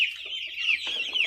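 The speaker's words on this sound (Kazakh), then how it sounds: "Бұл жерде қазір 99 тауықтың балапаны" Chicks peeping continuously in a brooder holding about ninety-nine chickens and one turkey poult, a dense, steady chorus of high chirps, close and unbroken, with no voices.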